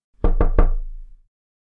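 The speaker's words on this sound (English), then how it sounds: "my sister knocked on the door" Three firm knocks on a bathroom door, evenly spaced and close, with a short low resonance after the last blow; no voices.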